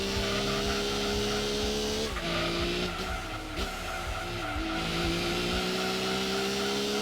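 Honda NSX race car in Gran Turismo 2 roaring along a GT 500 championship circuit, loud continuous engine note with shifting pitch as it brakes and accelerates through corners, brief tire squeal.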